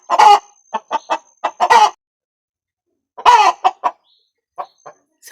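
A hen squawks loudly and close by in a garden, a rapid series of harsh clucking cries in two bursts separated by a pause, then fainter, sparser clucks trailing off.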